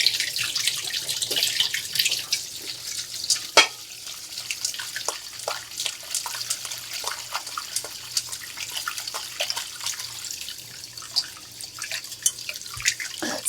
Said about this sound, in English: after we drain the noodles, you want to hit it with cold water